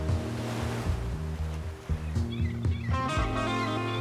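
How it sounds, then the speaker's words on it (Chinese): Ocean surf breaking on a sandy beach on North Carolina's Outer Banks makes a loud, continuous rushing wash over a low rumble, with a faint steady tone running beneath it. "听着海浪来回拍打的声音"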